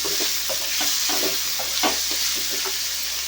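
Onions sizzle and crackle in hot oil with ginger garlic paste for a restaurant-style chicken curry, with a steady frying hiss broken by irregular stirring scrapes, close and continuous, with no talking.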